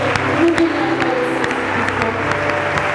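A church congregation claps in praise, a dense, loud patter of many hands filling the room, with a murmur of voices underneath.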